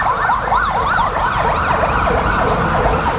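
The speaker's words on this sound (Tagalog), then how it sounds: "Pabalik-balik ang mga ambulansya at pulis mobile sa binombang simbahan." Ambulance and police car sirens wail together outside a bombed cathedral, overlapping warbling tones over rumbling road traffic, loud and continuous.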